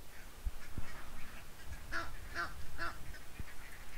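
A duck quacks three times in a quick, evenly spaced series, moderately loud against a low background hum.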